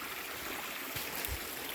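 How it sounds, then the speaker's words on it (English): A small woodland waterfall and flowing stream in Missouri give a steady, fairly loud rushing wash that continues unbroken throughout. "We'll go to the little tiny waterfall there."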